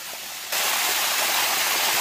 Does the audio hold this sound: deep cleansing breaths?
no